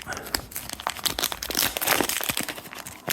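A Riftbound trading card booster pack being torn open from the top, a dense close run of crinkling foil and ripping wrapper lasting about three seconds, with no talking.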